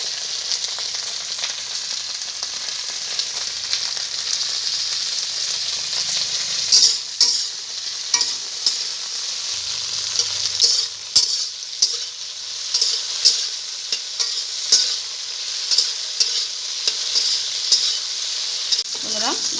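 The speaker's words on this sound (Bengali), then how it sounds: "ভেন্ডিটা ভাজা হয়ে গেছে" Okra (bhindi) frying in oil in a home kitchen pan, a continuous close sizzle with repeated scraping and stirring clicks in the second half, no talk.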